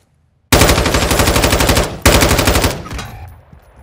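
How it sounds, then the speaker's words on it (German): Gunfire in a video game, with two long loud bursts of rapid, evenly spaced shots, the first lasting about a second and a half and the second after a brief gap, then a fading tail. "Runter! Das ist der Scharfschütze!"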